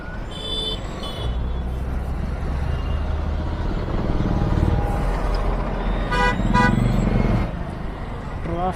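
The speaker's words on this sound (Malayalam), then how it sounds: "ട്രാഫിക് ജാം തുടങ്ങി ട്രാഫിക് ജാം" Busy Delhi road traffic jam with engines rumbling and several car horns tooting in short bursts, fairly close and loud throughout.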